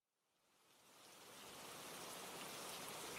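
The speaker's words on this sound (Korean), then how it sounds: "빗소리 시작" A rain sound effect played as a QLab theatre cue: steady rainfall hiss fades in from silence and holds as an even, dense patter with no voices.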